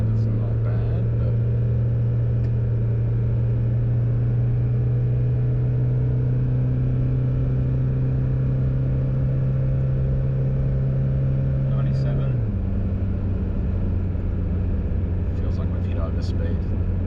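A pickup truck engine strains under hard acceleration while towing a trailer, a loud steady drone that holds one pitch for about twelve seconds and then drops as it shifts, with a voice talking over it throughout.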